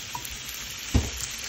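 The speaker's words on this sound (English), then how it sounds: "get them sear a little bit. That way they sear evenly." Chicken wings searing in a hot pan with a steady close sizzle and one brief low thump partway through.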